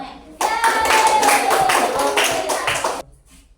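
Schoolchildren clap together in a classroom, a sharp, rhythmic burst of hand claps lasting about two and a half seconds, loud and close, then stopping abruptly into a quiet room.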